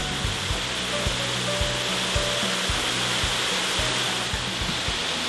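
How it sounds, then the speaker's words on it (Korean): Valley stream water flowing steadily near a 300-year-old traditional Korean house, a dense continuous rushing wash with faint low knocks underneath, no voices. "특히 비 올 때 듣는 계곡 물소리는 돈 주고도 못 듣는 최고의 음악이라고 합니다"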